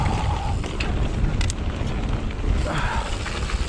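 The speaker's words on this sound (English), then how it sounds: "Just a little bit on the gusty side." Gusty wind buffets the microphone in a steady loud roar with rising surges, all but covering any other sound.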